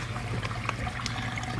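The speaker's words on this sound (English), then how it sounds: "Water just comes in there and circulates." Water circulates through a pump-driven hydroponic greenhouse system, giving a steady trickling rush with a low pump hum underneath. The sound is continuous and close, with no talking.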